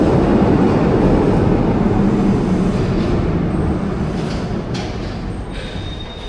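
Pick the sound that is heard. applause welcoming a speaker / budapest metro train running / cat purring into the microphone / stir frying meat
budapest metro train running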